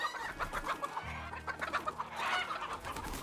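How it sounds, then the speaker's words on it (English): Chickens clucking in the video game Desperados III: several birds cluck busily and fairly close in quick, overlapping bursts, with a low steady hum under them and no talk. "So the chickens are a problem."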